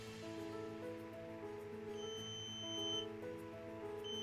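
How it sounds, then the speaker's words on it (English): The buzzer on a smart Kiblat direction finder emits thin, high electronic tones in short repeated bursts. They sound quiet and nearby over a low hum with steady tonal layers. "We can hear the sound of the buzzer"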